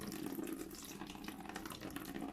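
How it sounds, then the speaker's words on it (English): Hot tap water pouring into a bin, a steady rushing splash with no pauses, fairly faint and heard alone. "fill your bin with some hot tap water"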